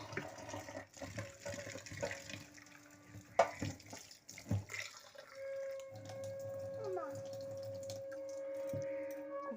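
Water runs from a kitchen tap as vegetables are washed, with splashing and handling clatter at first, then a steadier stream. It stays fairly faint and close, with no voices.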